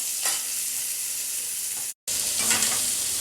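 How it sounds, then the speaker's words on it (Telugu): Onions fry in oil for a snake gourd curry with a steady close sizzle, stirred now and then, and the sound cuts out briefly before the frying resumes. "ఇందాక నూనె దాంట్లోనే ఉల్లిపాయలు వేసేసుకుందాము రెండు ఉల్లిపాయలు కట్ చేసుకున్నాను"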